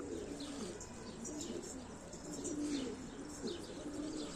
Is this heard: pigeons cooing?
yes